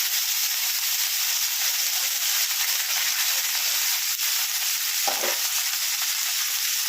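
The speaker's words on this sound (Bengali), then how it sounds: "এবার তেলটা গরম হয়ে গেছে, আমি এবার তেলের মধ্যে ঢ্যাঁড়সগুলো দিয়ে দিচ্ছি, দিয়ে ঢ্যাঁড়সগুলোকে ভেজে নিচ্ছি।" Cut okra fries in hot mustard oil in a wok, giving a loud, continuous close-up sizzle and hiss that holds steady throughout with no talking.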